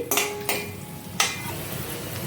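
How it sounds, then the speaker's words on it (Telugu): Cashews and almonds fry in ghee in a kadai with a steady sizzle, and a spoon scrapes and knocks against the pan three times. "టూ టేబుల్ స్పూన్స్ నెయ్యి కడాయిలో యాడ్ చేసుకొని క్యాష్యూ బాదం యాడ్ చేసుకొని చక్కగా ఫ్రై అవ్వనివ్వండి"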